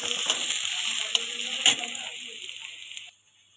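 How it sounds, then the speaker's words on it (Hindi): Onion frying in a pan for a homemade desi pasta, a steady close sizzle and crackle that runs for about three seconds, then drops off abruptly near the end. "थोड़ा सा प्याज को हम फ्राई करेंगे।"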